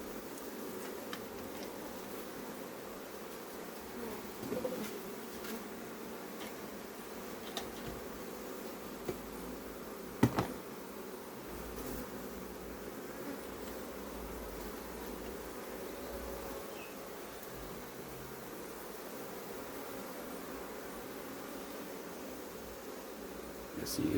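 Honey bees buzz softly and steadily around a hive frame, a faint continuous drone with a few light knocks and rustles and no talking.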